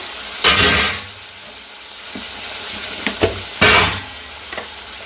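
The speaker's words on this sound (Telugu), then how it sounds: "టమాటా పచ్చిమిర్చి వేసుకున్నాం మొత్తం ఒకసారి వేసుకొని కలిపి వేసుకున్నా" Tomatoes and green chilies stirred in a hot pan, giving two loud, close sizzling bursts with quieter scraping and frying crackle between them.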